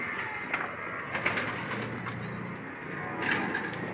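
Racing pigeons that have returned from a training toss coo softly in a loft, several faint calls scattered over a steady outdoor background, with no talking.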